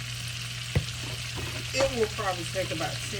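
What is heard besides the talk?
fish frying in oil with complete seasoning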